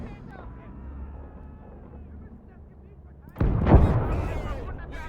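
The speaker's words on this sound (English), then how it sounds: "Let's see what a 76 to the side of the tank turret does" In a World War II tank game, a 76 mm tank gun fires at the side of an enemy tank turret, a loud blast arriving late over a low engine rumble and a talking voice.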